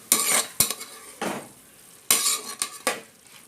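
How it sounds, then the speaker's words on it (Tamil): Tomatoes sautéed in a pan after onions for Tamil tomato kadayal, with several loud bursts of spoon scraping and clattering against the metal pan separated by quieter gaps, no talking. "இப்போ தக்காளி போட்டு நல்லா வதக்கி விட்டுடலாம்"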